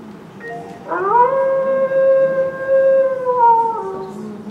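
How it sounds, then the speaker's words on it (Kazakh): Wolf howling: a single long, clear howl that rises sharply, holds a steady pitch for about three seconds and then tapers off, heard close and alone. "Қасқыр."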